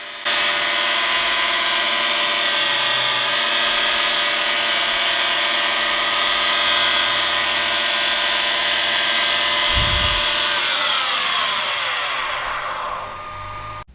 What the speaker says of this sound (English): Giving this a little tickle on the surface grinder